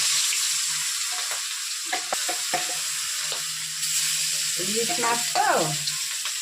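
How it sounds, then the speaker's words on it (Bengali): Fish fries in hot oil in a wok with a continuous close sizzle, broken by a few scrapes and clatters of utensils near the end. "এবার মাছটা তেলের উপর দিলাম"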